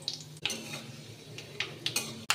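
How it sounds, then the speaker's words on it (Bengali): Dried red chillies, bay leaves and five-spice fry in hot oil while being stirred, a soft close sizzle broken by a few sharp scrapes and taps of a utensil against the pan. "তেলে আমি ফোড়ন দিয়ে দেবো দুটো শুকনো লঙ্কা, দেবো তেজপাতা, দিয়ে দেবো 5 ফোড়ন।"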